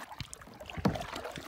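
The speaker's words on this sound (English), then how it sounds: "just going for a little paddle in the river" Paddle strokes splash in a river from a small boat, a few soft dips and swishes up close with one sharper splash midway.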